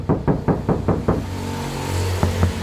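Knuckles rap on a car door panel that lacks sound deadening, six hollow, tinny knocks in quick succession, then a pause and three more, loud and close.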